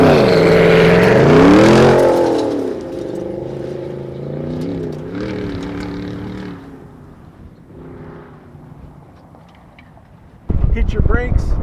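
A Gen 1 Ford Raptor with a Corsa Extreme exhaust accelerates hard, its engine note rising loudly and then easing through gear changes before a sudden louder burst near the end, with a voice heard over it.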